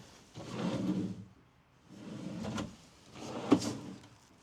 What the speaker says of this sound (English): These are soft close. So you can just pop those back in there.